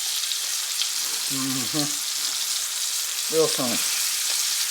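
Strips of bacon sizzle steadily in a pan while liver with onions is being cooked, a constant hiss filling the background as a person speaks briefly twice.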